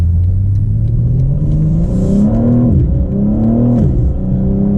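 A BMW M4 Convertible with a torque-converter automatic revs hard in Sport Plus mode, its loud engine note climbing in pitch, dipping, then climbing again as it pulls close and steady.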